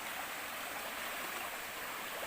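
A river flowing steadily, a dense, even rush of moving water with no break, close by and moderately loud, no voices present.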